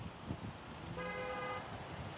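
A car horn sounds one sustained honk of about half a second at a busy roundabout, Rondo Grunwaldzkie in Kraków, heard amid low road and traffic noise.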